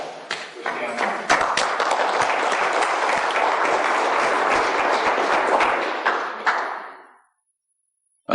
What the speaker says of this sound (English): Please let's give a round of applause for Stanley.